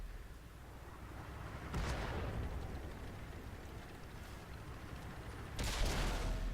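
Tank cannon fire in World of Tanks, Object 268 battle: two heavy booming blasts a few seconds apart, each a broad burst with a rumbling tail over steady low battle noise.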